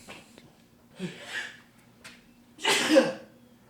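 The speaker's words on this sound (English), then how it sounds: "sneeze" A single sharp sneeze bursts out near the end, preceded by a few soft breaths and small vocal noises, close to the microphone.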